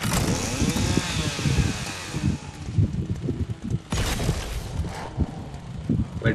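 A chainsaw weapon in the Fortnite video game revs in a loud, rising and falling whine with rough choppy bursts, mixed with other gameplay noise.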